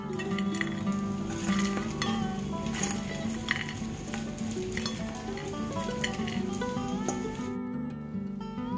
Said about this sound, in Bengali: এইভাবে 2-3 ব্যাচে আমি এই সব ডাল বড়াগুলোকে ভেজে তুলে নিচ্ছি।